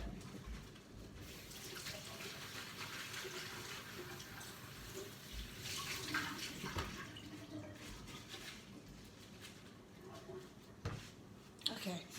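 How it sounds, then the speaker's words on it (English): Tap water runs steadily while a plastic bag and cup are rinsed out at a sink, a continuous splashing wash with a few louder knocks and spurts near the end. "I'm gonna wash out the bag and the cup"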